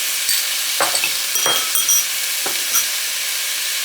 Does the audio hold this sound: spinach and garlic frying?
yes